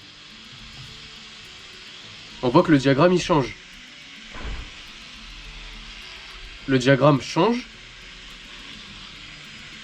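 A DJI Mavic Mini drone in flight gives off a steady, thin mechanical hum that runs continuously beneath someone speaking French in two short bursts.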